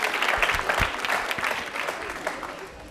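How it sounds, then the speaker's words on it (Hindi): Studio audience applause for a quiz show contestant in a Jaipur studio, a dense burst of many hands clapping close by for about three seconds, steady then tapering slightly, with no speech over it. "तालियां जोरों से बजाइए आपके लिए।"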